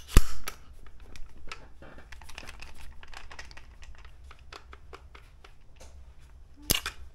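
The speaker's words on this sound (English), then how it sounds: "make sure that they can drop a mag." A rifle fitted with an Armaspec SRS drops its magazine: a sharp click at the start, faint scraping and handling clicks in the middle, then a second crisp metallic clack near the end.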